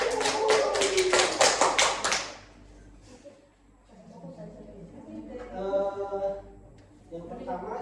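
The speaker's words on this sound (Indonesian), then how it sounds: "beri aplaus untuk kelompok 1" A classroom group claps for group one, a quick burst of hand claps that fades after about two seconds, followed by quieter room noise and someone speaking.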